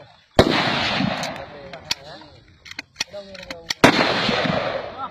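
Two loud gunshots at shooting practice ring out a few seconds apart with echoing tails, with sharper smaller cracks and a voice between them.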